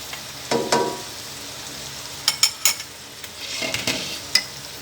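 Chopped onion sautéing in melted butter in a pan, with a soft steady sizzle, a few stirring clatters near the start and sharp utensil clinks against the pan partway through.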